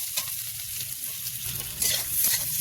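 Fried eggplant stirred into a sizzling paste of cumin, ginger and chillies in a pan, a steady close-up frying hiss with scraping stir strokes that grow louder toward the end, no voices.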